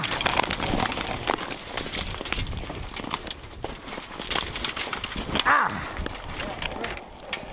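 Horses ridden through a swamp on a fall hog hunt, their hooves clopping steadily across the whole stretch under frequent close talk from the riders.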